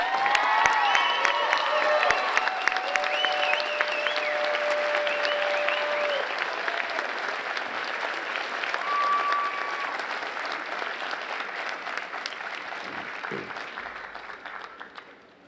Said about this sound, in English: Please join me in congratulations and applause.